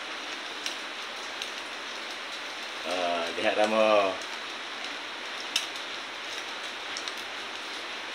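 Steady rain hisses evenly throughout, with a brief stretch of speech in the middle and occasional faint ticks.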